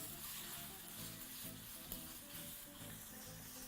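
Bananas fry in a pan, a faint, steady sizzle with gentle stirring movements in the background and no voices.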